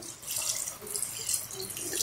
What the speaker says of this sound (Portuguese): Vou colocar agora um pouco de água.